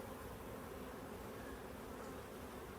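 Honey bees buzz around an open hive during a summer inspection, a steady, faint, continuous hum with no talk over it.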